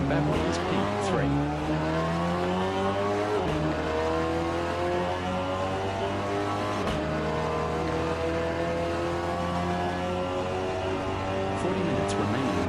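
Racing simulator game at TGN with several race cars droning together at high revs, engine tones sweeping up and down through gear changes, plus brief tire squeals, a steady dense roar throughout.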